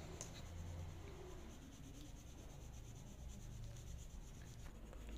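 Crayons being rubbed across a card during coloring in a play group maths lesson: a soft, steady, scratchy scraping that is faint and close, with no talk.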